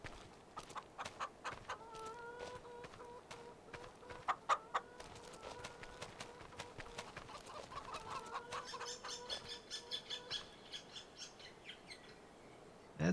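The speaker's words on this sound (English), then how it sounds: "That's a weird sounding bird." Chickens cluck and a rooster calls repeatedly on a farm in Farming Simulator 25, set in Alma, Missouri, with sharp, fairly close bird calls over a low, steady ambient background and no talking.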